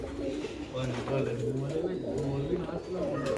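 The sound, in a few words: black-faced pigeons and quails for sale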